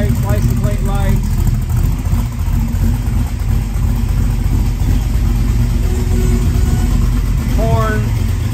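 A 1978 Pontiac Trans Am engine runs steadily at idle, a loud continuous low rumble that fills the whole stretch with no other sounds on top.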